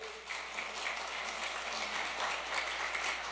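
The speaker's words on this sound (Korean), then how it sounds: "여러분을 위해서 한번 박수 안 치실래요?" Applause from the audience at a lecture on loyalty, filial piety and manners, a steady wash of many hands clapping, fairly faint and distant, holding evenly throughout.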